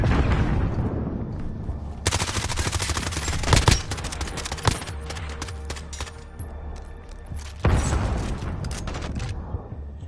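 Hip-fired automatic gunfire in a shooter game, with an MP5 in use: sustained close bursts with heavy booming impacts and a few louder reports, continuing nearly throughout with brief pauses.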